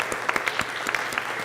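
Brief applause from the audience at a school board of education meeting, a short run of close, sharp claps from several people at a steady level.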